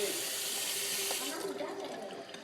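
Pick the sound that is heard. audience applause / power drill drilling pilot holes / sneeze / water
water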